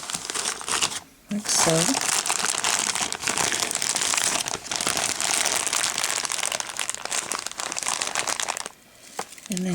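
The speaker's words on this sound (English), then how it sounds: "I'm going to slip it into a bag." Plastic bag crinkles and rustles steadily as a Christmas candy sleigh party favor is slipped inside, a close, continuous crackle with a brief pause and someone speaking softly.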